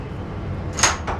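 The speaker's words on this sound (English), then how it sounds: "The door is now locked." A train toilet door on an LNER service slides shut and its lock engages, giving a brief clunk followed by a second quieter click over steady onboard rumble.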